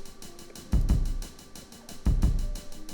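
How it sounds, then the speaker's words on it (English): A simple kick drum pattern in a soul-style drum break, two deep punchy kicks over a steady ticking hi-hat groove, close and clear with no voices. "I'm just going to add just simple kick pattern."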